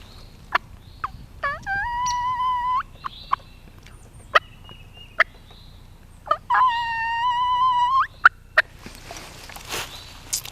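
A hunter's turkey call imitates a hen's soft whine, sounding a few thin, sustained whistling notes, two longer drawn-out whines among short clucking clicks, close and clear against quiet outdoor background.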